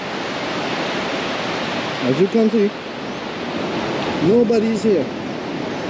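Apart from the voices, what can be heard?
waves breaking on Maracas Beach, Trinidad, on a rainy day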